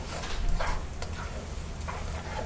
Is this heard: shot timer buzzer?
no